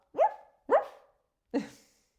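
Three loud, close dog barks in an uneven rhythm, the first two quick together and the third after a pause, standing in for a duck that barks in a children's farmyard tale.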